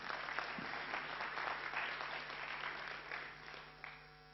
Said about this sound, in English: So one big applause for CI.